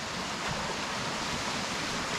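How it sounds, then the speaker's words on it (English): A forest stream in Learmount Forest Park, County Londonderry, flowing steadily with a close, broad rushing hiss that holds constant and fills the scene, with no voices. "But see, the stream can be wider again."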